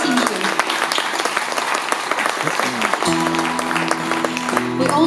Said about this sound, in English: a round of applause for the whole team here.